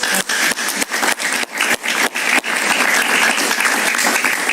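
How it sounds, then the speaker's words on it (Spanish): A studio audience on a Spanish-language talk show bursts into loud, close applause, with a few sharp separate claps at the start before it settles into a dense, steady clapping that continues to the end. "un aplauso para María"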